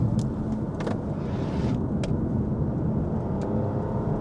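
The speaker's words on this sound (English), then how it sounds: "I think you guys can hear when I'm on full throttle versus when I'm off throttle" Lexus LBX engine pulling at full throttle while driving, a steady low rumble with road and wind noise, continuous and fairly muffled from inside the cabin, with a few faint ticks above.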